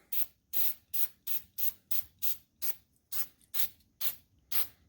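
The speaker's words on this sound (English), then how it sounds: "Go ahead and spray a spot here for you to watch" Short hissing bursts from an aerosol can of Eastwood rust treatment, sprayed onto a truck frame, repeat in a quick, steady rhythm, about a dozen sprays close up in a quiet space.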